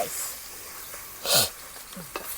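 Spice powders sizzle softly in a pot of chicken curry cooked outdoors in a forest, a steady faint frying hiss under brief bits of speech and stirring.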